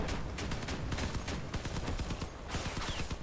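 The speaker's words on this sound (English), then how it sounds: "shooting his wheels" Rapid continuous gunfire in the vehicle combat game Crossout, aimed at an opponent's wheels: dense, loud repeated shots with thudding low impacts, with no pauses.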